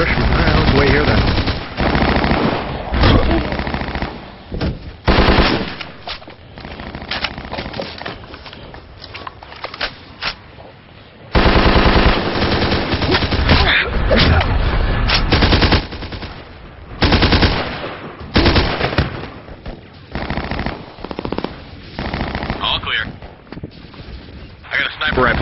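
Loud, sustained machine gun fire from a video game rattles in long bursts with short breaks, with voices talking over it throughout.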